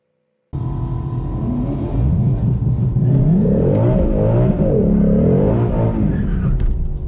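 A 2022 Ford Shelby GT500 launches down the drag strip at Lebanon Valley Dragway with launch control set to 1700 RPM, its engine revving hard and then roaring steadily and loudly as the car accelerates away.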